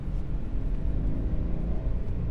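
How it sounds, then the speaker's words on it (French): Toyota GT86 with its Subaru four-cylinder boxer engine, a steady low rumbling drone with a throbbing idle-like character, moderately quiet and continuous with no talk. "elle fait un bruit très particulier parce que en fait c'est le bruit classique des Subaru, vous savez, le 4 cylindres boxer"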